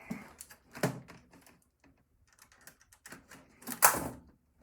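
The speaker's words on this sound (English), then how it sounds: "That was the keyboard." Clicks and thumps from a computer keyboard being handled during a computer disassembly, a few scattered taps ending in a louder burst of clatter near the end, close by and otherwise quiet.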